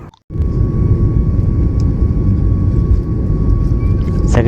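Inside an airliner cabin before takeoff on a Mumbai to Chennai flight, a loud, steady low roar of engines and air fills the space continuously, with a faint tone above it.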